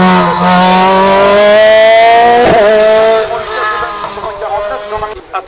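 A hill climb race car with a new BMW engine block screams past at full throttle, a loud, rising engine howl close by that holds high, then drops away with gear changes and fading revs.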